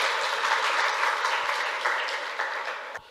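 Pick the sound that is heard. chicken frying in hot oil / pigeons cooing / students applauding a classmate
students applauding a classmate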